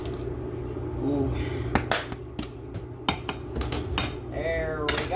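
Carrots drop into a cooking pot with sharp clinks and clatters against the metal over a steady background hum, a few scattered knocks, and a voice speaking briefly at the end.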